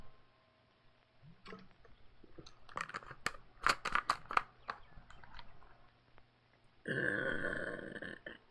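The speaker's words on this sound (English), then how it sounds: "Burp." A short close burp follows a string of crunchy chewing or clicking noises, quiet overall, then a louder burst of broadband noise near the end.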